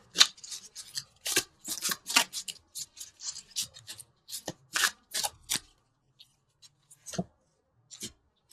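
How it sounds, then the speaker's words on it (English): Tarot love cards shuffled and drawn from a deck at close range, with crisp riffling bursts in quick succession followed by a few sparse, softer card slides and taps near the end. "let's pull a couple universal love cards"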